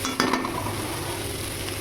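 Shrimp frying in a pan for bitter gourd and shrimp curry, a dense close sizzle with a couple of brief stirring clacks at the start, heard alone.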